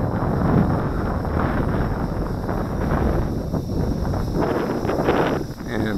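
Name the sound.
wind blowing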